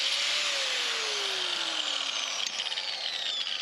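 A power tool cutting metal intercooler mount pieces on a cheap drift car build, a steady loud high-pitched whine with a slowly falling tone, continuous and close.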